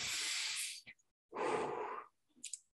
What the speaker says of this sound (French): Grande respiration ici.